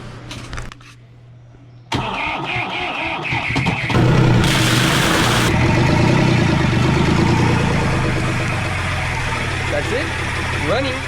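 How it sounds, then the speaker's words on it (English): A sailboat's inboard engine, unused for several years and with the boat held in a travel lift, cranks and starts up, then runs at a steady loud idle, with people talking nearby. "So it's all set to turn on the engine."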